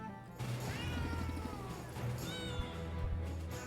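Cartoonish cat meows from the video game Potionomics sound in short bursts over a steady, looping game music bed, with no talking.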